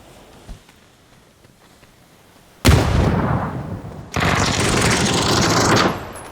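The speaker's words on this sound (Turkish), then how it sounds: "Bomba attım, bomba attım, bomba attım" A thrown grenade bursts in a video game with a sudden loud blast at close range, followed by a long rumbling roar that swells again into a second sustained burst before cutting off.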